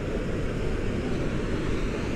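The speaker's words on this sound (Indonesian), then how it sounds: "Dan kenapa di sini sangat-sangat berangin?" Strong wind at Lake Pehoe in Patagonia, Chile, roars as a continuous, even rush of broadband noise with no voices.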